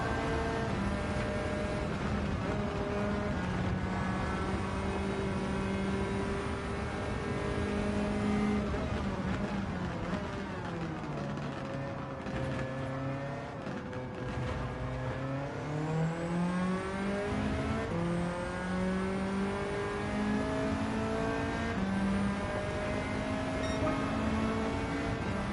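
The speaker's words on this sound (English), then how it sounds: "Yeah, the anti-lag, it does sound like popcorn." A turbocharged race car with anti-lag runs in Gran Turismo 7. Its engine drones loudly without a break, climbing in pitch through the revs and dropping sharply at each gear change.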